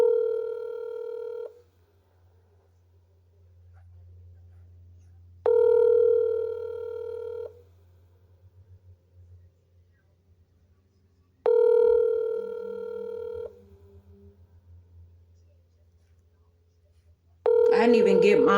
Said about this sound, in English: Now she not answering this phone.